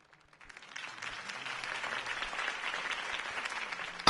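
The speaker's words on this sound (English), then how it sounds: "could have heard that applause" Crowd applause after a campaign speech in the Batman Telltale video game, swelling from near silence into sustained clapping and holding steady to the end.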